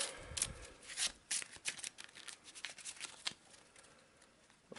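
A deck of Eldritch Horror Otherworld encounter cards is shuffled by hand, giving a quick run of crisp riffling and flicking bursts at close range, with no talk.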